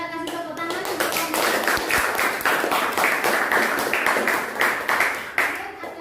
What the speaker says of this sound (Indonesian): Boleh kita kasih tepuk tangan untuk